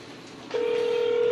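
A single steady telephone tone from a phone calling a used-car dealer starts abruptly partway through and holds to the end, clear and moderately loud over faint room noise.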